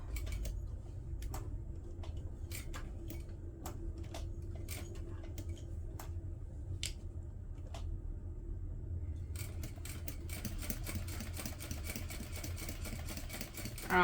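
A sewing machine stitches a fabric pouch in short bursts, its rapid mechanical whirr starting and stopping, then running continuously near the end, close and clear with no talk.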